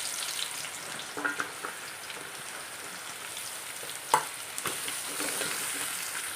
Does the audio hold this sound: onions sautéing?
yes